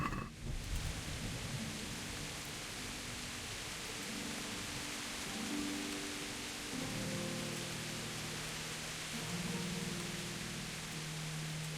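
Steady rain hisses continuously in the medieval game Kingdom Come: Deliverance, a dense even wash with faint low tones drifting beneath.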